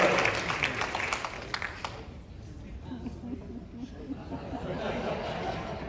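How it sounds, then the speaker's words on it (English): Applause from an audience at a NASA Johnson Space Center talk welcomes Steve, the deputy CFO, on stage; a burst of clapping fades after two seconds into chatter and light laughter. "Give Steve a round of applause."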